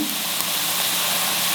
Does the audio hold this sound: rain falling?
no